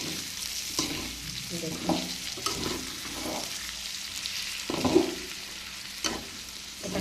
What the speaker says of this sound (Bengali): দেখুন, ডাল এবং সবজি বেশ ভালো করে কষানো হয়ে গিয়েছিল।